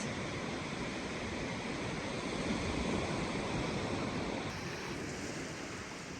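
Surf washing onto a beach at Pender Bay on the Dampier Peninsula, Western Australia: a steady, close roar of breaking waves mixed with wind buffeting, continuous throughout with no voices.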